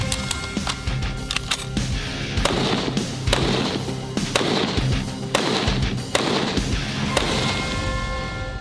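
Repeated gunshots fired at a LEGO target, a sharp loud crack followed by more cracks at irregular intervals amid heavy echoing noise and rattling, close and dense throughout with no talking.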